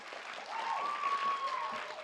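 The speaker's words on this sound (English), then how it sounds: "Let's give them a big round of applause" Quiet, distant applause fills a school board meeting room, a soft even wash of clapping heard from afar, with a thin sustained tone gliding through the middle.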